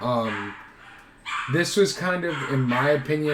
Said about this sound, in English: sorry about my dogs, by the way,